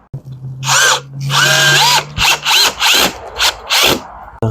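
A power drill whirs in a series of short, loud bursts, revving up and cutting off repeatedly as screws are driven in while installing a retractable screen door, with brief pauses between.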